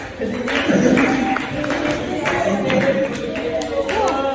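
A classroom at SMP IT Nur Hasan applauds a student group with a steady wash of mid-distance clapping, scattered chatter and voices mixed in throughout.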